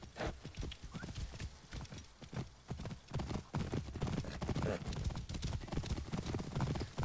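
Horse hooves clip-clopping steadily in Assassin's Creed, a legendary horse trotting with an occasional whinny, the even hoofbeats running under speech.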